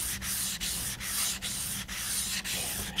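A Mora bushcraft knife is drawn across a Naniwa Superstone 400 whetstone in steady, close, raspy strokes, about seven even passes with brief pauses between them and no talk.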